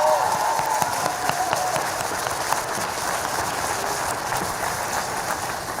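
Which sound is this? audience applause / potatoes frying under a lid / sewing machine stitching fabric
audience applause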